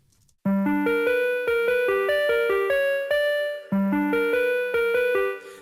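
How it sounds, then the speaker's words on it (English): A Fairy Pool synth run through a bit crusher gives a chippy 8-bit video game tone, playing quick rising arpeggiated note runs that step upward, restart, and repeat, bright and up close. "So I've added a bit crusher, and that sounds like this."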